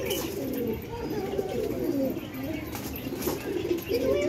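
Pigeons cooing continuously in low, rolling calls, close by, over a busy background with some other chirps.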